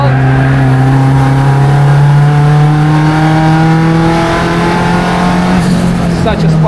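A rare Ford factory race car revs hard, its engine holding a loud, close, strained drone with a steady rising pitch before easing slightly near the end, with a voice briefly audible over it.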